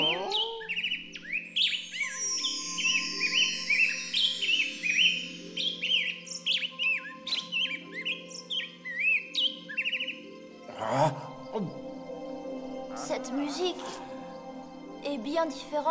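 A magic nightingale in an animated fairy tale sings a long run of bright, rapid chirps and trills, loud and close; partway through, voices speak over the song with music.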